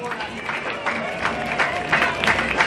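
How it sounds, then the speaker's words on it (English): Crowd applause for a school group marching in the Swinford St Patrick's Day parade, sustained clapping and cheering outdoors that swells in rhythmic bursts. "So a big round of applause for our Minions."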